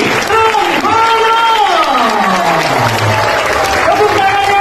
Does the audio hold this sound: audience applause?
yes